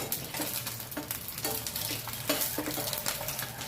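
Eggs frying in hot oil in a pan for a restaurant-style egg curry, a steady close sizzle with scattered pops and scraping stir strokes throughout, no voices.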